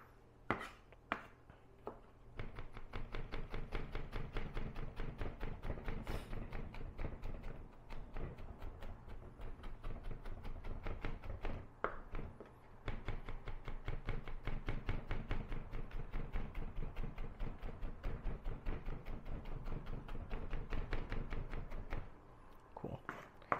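A knife chops through food on a cutting board during meal prep, a steady run of close, crisp knocks against the board repeated rapidly for most of the stretch with brief pauses.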